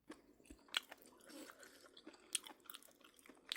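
Someone eating a spicy Chinese-style salad with squid and bamboo shoots: soft, close chewing with a few sharp crunchy bites, quiet and irregular.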